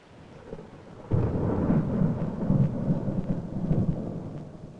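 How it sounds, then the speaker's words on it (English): A sudden deep rumble of thunder rolls in and keeps grumbling, with rain hissing steadily underneath. "If you're caught outside during an electrical storm"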